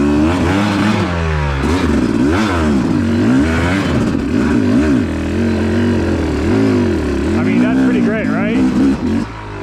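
A 2019 Yamaha YZ250X two-stroke dirt bike chugging uphill in low gear, its engine note rising and falling under loud continuous wind and rider noise, with no clear speech.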